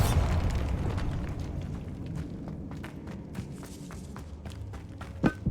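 A Bombarda spell in Hogwarts Legacy sets off a low rumbling blast that fades out, followed by scattered footsteps and small pops, with one sharp bang near the end.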